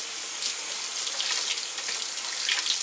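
A hose sprays water to rinse cleaned letters on a Zenith H 500 Trans-Oceanic radio during restoration, a steady hissing gush running unbroken and close for the whole stretch.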